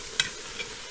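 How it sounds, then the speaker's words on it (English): Vegetables browning in a soup pot sizzle softly and steadily, with a sharp clink of a utensil against the pot and a fainter scrape after it. "So my vegetables are browning nicely."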